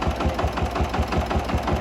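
A tractor engine runs steadily in a Konkan rice field, a close, low, rhythmic chugging with even pulses throughout.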